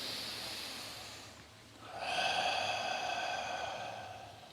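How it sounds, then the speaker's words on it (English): Deep breathing during a dragon pose yoga exercise: a long hissing exhale fades into a short pause, then a strong, close, breathy inhale swells and slowly tapers off. "Here come the 3 breaths."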